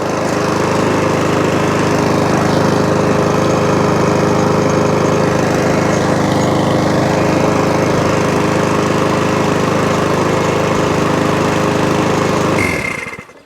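A Mountfield 164 lawnmower engine runs loud and steady close by, a continuous even drone for about twelve seconds before cutting out abruptly at the end.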